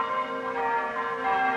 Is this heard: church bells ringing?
yes